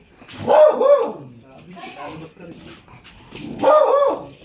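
Several dogs barking in loud bursts, with a cluster of barks near the start and another near the end and quieter yips between, while people talk over them.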